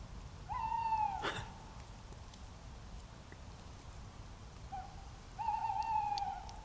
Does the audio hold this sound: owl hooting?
yes